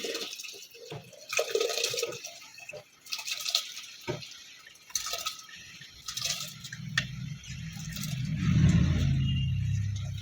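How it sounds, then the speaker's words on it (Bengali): Rice poured into a pot of boiling water seasoned with black pepper, with dripping and splashing watery sounds throughout and a louder, steady bubbling rush building toward the end. "এবার জল ফুটে এসেছে, চালগুলো এবার দিয়ে দিচ্ছি।"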